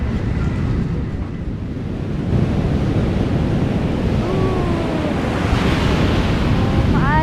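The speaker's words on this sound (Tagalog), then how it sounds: "Tignan natin yung alon." Ocean waves washing onto a beach at a resort in Cabangan, Zambales, a steady broad roar of surf with wind, and faint bird calls in the background.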